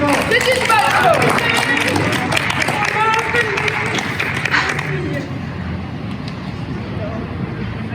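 Audience in a theatre bursts into loud applause mixed with crowd chatter and voices, the clapping strong at first and then thinning out and fading.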